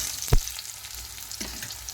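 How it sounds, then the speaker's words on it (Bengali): Chopped onion hits hot oil already frying with mustard seeds, cumin and bay leaves: a sharp clatter, then a steady close sizzle. "ভাজা হয়ে গেছে, দিয়ে দেবো পেঁয়াজ কুচি"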